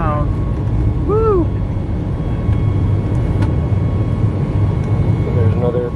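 Airplane in flight heard from inside the cabin on a trip to Mexico: a loud, steady engine and air roar fills the space, while people talk and exclaim over it.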